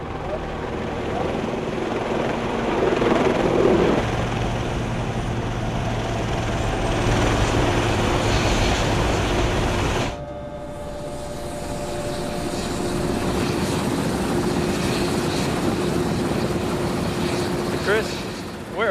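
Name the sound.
helicopter flying to offshore platform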